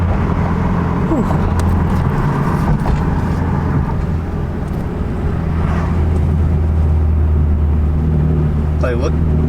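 A BMW 428i M Sport with its muffler deleted and an 8-speed transmission pulls hard, its deep exhaust rumble steady and loud from inside the cabin while someone talks over it.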